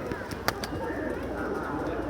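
Domestic pigeons in a small home loft, hens not yet laying, coo softly and steadily close by, with a few sharp clicks and wing or perch noises over a dense, low murmur.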